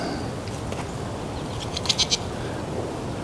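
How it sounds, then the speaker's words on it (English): A baby goat gives two short, high bleats close together over a steady outdoor homestead hiss, each call brief and sharp. "That was a weird sound. I guess this is a baby goat."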